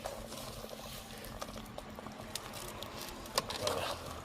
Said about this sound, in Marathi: उकळे आली उकळे आली.